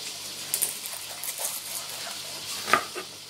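Shallots dropped into hot oil alongside garlic for char siu chicken thighs, a quiet sizzle with light stirring and a few sharp utensil clinks, one louder near the end.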